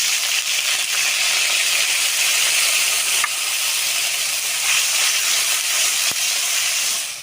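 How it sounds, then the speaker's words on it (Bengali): Spices frying in a pan with grated ginger, whole cumin, bay leaf, dried chilli and a splash of water, a loud, steady, broad sizzling hiss that holds throughout with faint clinks, no voices. "সুন্দর করে মশলাটা কষানো হয়ে গেছে।"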